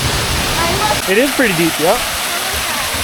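A small waterfall in the Canadian Rockies keeps up a steady broadband rush of falling water from start to finish, with people talking close by over it.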